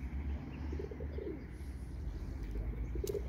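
Soft pigeon cooing repeats faintly in a chicken coop over a steady low rumble of background noise, with a few brief bird calls.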